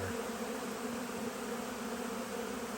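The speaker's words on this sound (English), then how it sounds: "There you can see all the bees going through the cut comb." A dense, steady drone of many honey bees buzzing close by, continuous and even with no pauses.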